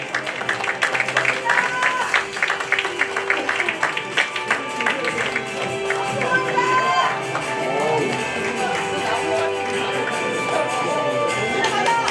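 An audience at a 2024 journalists' association awards ceremony claps in a dense burst of applause that fades after several seconds as voices carry on over the room.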